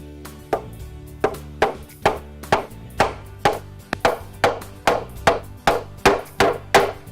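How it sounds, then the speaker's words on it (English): A hammer drives nails through boards into wall studs for a memory board, landing about fourteen sharp, evenly paced strikes up close with brief ringing decay between blows. "Now I'm going to take the end ones off and start nailing here and work my way out."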